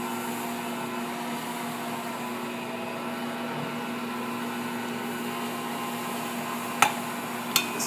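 An Assistent Original stand mixer kneading dough runs with a steady, even motor hum and whir throughout, close and unbroken, with a couple of faint clicks near the end.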